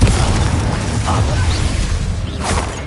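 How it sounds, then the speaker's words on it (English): A Confringo fire-blast spell goes off in the Hogwarts Legacy video game, a loud sustained roaring burst with crackling mechanical rattles and a couple of brief whooshing flares, heard alone. "Confringo!"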